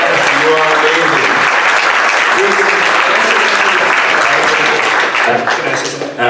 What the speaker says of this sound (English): everyone, round of applause for Abby